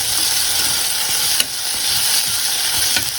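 Potatoes and vegetables for a vegetable biryani sizzle steadily in hot oil while being stirred, a continuous close frying hiss with a couple of brief utensil scrapes and no talking.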